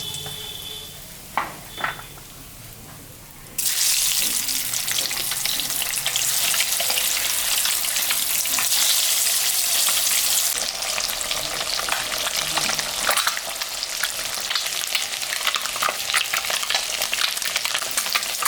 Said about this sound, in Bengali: এখন ডিমটা ভাজবো। তেলের মধ্যে লবণ